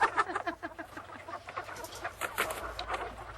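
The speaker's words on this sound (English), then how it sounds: "Never seen such nervous chickens." Hens cluck and chatter in a steady, restless stream, several birds close by with overlapping calls and no voices.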